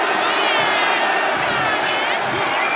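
A dense, loud wall of crowd cheering fills an arena during a WWE 2K25 SmackDown wrestling match, constant and roaring throughout with no pauses or clear voices.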